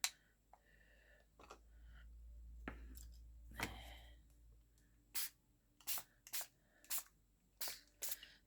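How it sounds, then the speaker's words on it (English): A spray bottle spritzes water onto collage paper in about six quick, sharp bursts close by, after quieter rustling and handling sounds. "So when you spray a little bit of water on it,"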